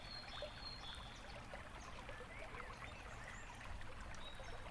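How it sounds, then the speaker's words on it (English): A creek flows with a steady, soft rush and trickle, heard evenly and at a gentle, close level with no other sounds. "listen to the water flowing down that creek we sometimes like to splash around in"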